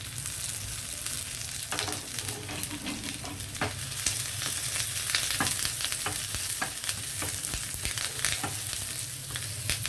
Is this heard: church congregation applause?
no